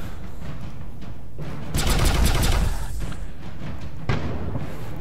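Long-range pulse laser fire in the Sunrider Liberation Day space battle game: a rapid burst of crackling shots about a second long, followed by a softer single hit, over a constant low hum.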